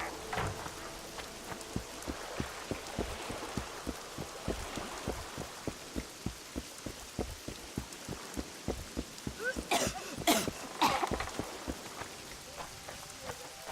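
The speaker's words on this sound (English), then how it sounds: "It's really raining now." Steady rain in the video game The Witcher 2: Assassins of Kings patters on a surface with heavier drops tapping irregularly, and a few sharper splashes stand out near the end.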